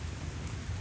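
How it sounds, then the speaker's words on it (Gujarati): Rain beginning to fall outdoors, a brief, soft, steady patter with no voices. "ચાલો ફેમિલી ગાઈસ વરસાદ શરૂ થઈ ગયો ભાઈ"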